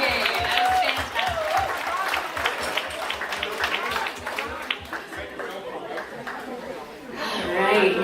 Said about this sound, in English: Round of applause for Vic and Bob and Sandy